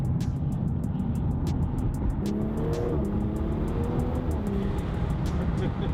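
A BMW fitted with a 2JZ engine accelerating hard: a loud, rough engine roar climbing in pitch over a dense rumble, with faint rapid ticking on top, heard from close by.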